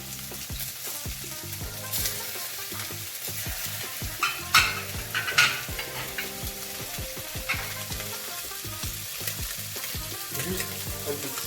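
Scallops (Saint-Jacques) sear in a hot frying pan, giving a steady crackling sizzle with occasional sharper pops and spatters that go on throughout, close and without speech.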